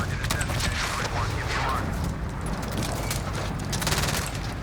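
Dense, continuous gunfire and explosions fill a PC shooter game running on an iGAME RTX 3080 graphics card, loud rapid bursts with a faint voice underneath.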